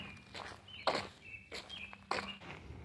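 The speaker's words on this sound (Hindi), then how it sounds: "इस पर जब वॉक करते हैं आप देख सकते हैं इस रेत और बजरी वाला जो मिक्स है" Several crunching footsteps on sand and gravel, fairly close and unhurried, each step a gritty scrape.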